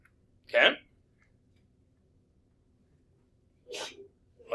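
A single sharp sneeze bursts out close and loud early on, followed by quiet and then a second shorter breathy burst near the end, in a quiet room.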